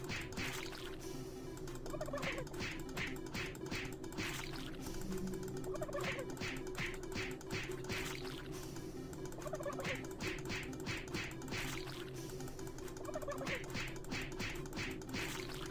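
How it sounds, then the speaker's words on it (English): Repeated clucking and gobbling bursts from a chicken in the sci-fi shooter Doom 3, coming in regular clusters over a steady low game hum, fairly close and clear with no talking. "why they're having me punch a freaking chicken"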